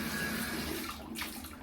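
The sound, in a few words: water running from Y-Garhe LED bathroom sink faucet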